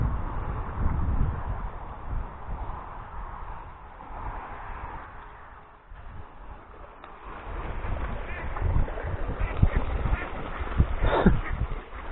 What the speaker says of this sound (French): Il passe le canard.